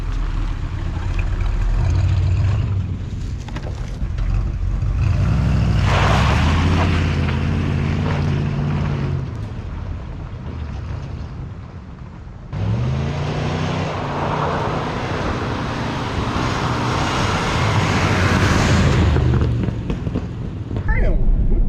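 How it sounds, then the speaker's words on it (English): A 1968 Ford F100 Ranger pickup, an old truck abandoned for years, rumbles steadily up close with loud engine and road noise throughout, wind rushing over it, and a brief dip in level midway. "I may be going back to Porterdale in this old truck"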